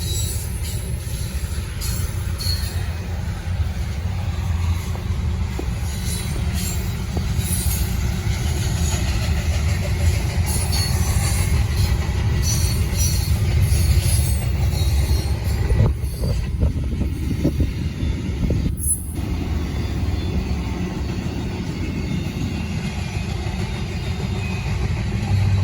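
A Norfolk Southern freight train with three locomotives rolls past, a steady loud rumble of engines and wagons holding throughout with brief high squeals near the end.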